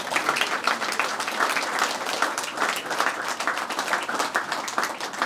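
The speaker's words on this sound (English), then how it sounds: "You can absolutely clap for that" Audience at a memorial service for a young man applauds steadily, a dense, even wash of many hands clapping nearby for the full stretch with no talk over it.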